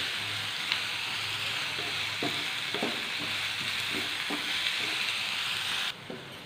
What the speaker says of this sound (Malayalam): ഈ സവാള നന്നായിട്ട് വാടി വരുന്നത് വരെ നമുക്ക് ഒരു മീഡിയം ഫ്ലെയിമിൽ വയ്ക്കണം.